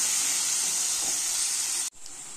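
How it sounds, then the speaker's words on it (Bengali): Small chopped potato pieces fry in hot oil in a wok with a loud, steady hiss and sizzle that cuts off abruptly near the end. "আলুগুলো এখন এখানে দিয়ে দিলাম। দিয়ে আলুগুলো আমি একটুখানি লাল লাল করে ভেজে তুলে"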